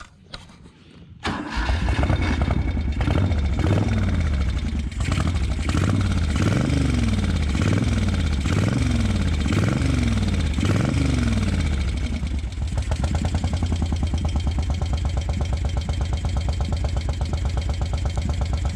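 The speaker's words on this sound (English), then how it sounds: "There she sits, idling, warming up." A Moto Guzzi Eldorado police motorcycle engine cranks over with a rhythmic chugging for several seconds, then settles into a steady, loud idle that runs on alone, warming up.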